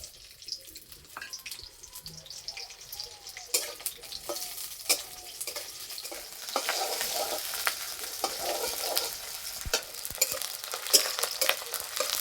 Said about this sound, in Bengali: প্রথমে পেঁয়াজ ভেজে নেব।